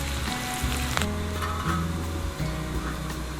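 Jalapenos, onions and garlic frying on a discada, a steady close sizzle with bubbling crackle and occasional stirring scrapes throughout.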